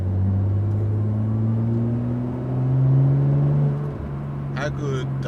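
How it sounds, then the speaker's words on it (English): Nissan Skyline R33 with an RB25 engine drones steadily from inside the cabin while driving, its pitch climbing slowly and easing back rather than sharply revving, with a brief burst of voice near the end. "How good does the RB25 sound?"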